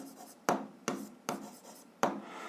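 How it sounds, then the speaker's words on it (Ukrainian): Pen on paper working a physics exercise, four sharp strokes each followed by a short scratchy trail, close and quiet with brief pauses between. "Так, пишемо то."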